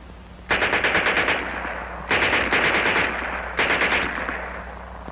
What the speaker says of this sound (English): And here's their Schmeisser.